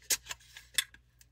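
A card slides into a slot of a MEMO whiteboard wallet with a few faint, quick scraping clicks, close up and quiet, with no voices.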